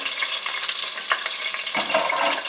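Onions going into a hot frying pan while cooking a lobster-tail curry (cari), a steady broadband sizzle and stir with brief louder bursts as the pieces hit the oil, close and without talk.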